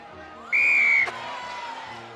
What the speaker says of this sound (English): Penalty advantage leads to the blow of the whistle.